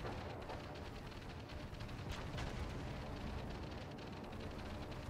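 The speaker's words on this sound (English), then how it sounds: "American battleships definitely can throw up some flak" Anti-aircraft flak from American battleships in a naval video game battle rumbles as a continuous barrage of popping bursts and booms, loud and dense, with a sharper blast partway through.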